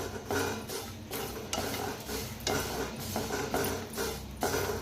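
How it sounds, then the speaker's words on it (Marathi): Sesame seeds dry roasting in a pan, stirred with a utensil in steady repeated scrapes and rustles, close and fairly loud, with no talking. "आता ह्याच्यातच भाजायचं तीळ। छान असं भाजून घ्यायचं सुगंध येऊस तर।"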